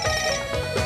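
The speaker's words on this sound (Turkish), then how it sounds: "Telefonun çalıyor." A phone ringtone plays loudly and close, a steady electronic melody with repeating tonal bursts, alone with no talking over it.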